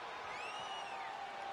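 Capacity arena crowd in the WWE 2K wrestling game, a steady, distant roar of cheering and whooping during a no-holds-barred Stone Cold Steve Austin versus Rikishi match, faint and continuous with no clear voice.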